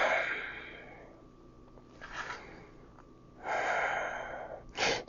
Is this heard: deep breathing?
yes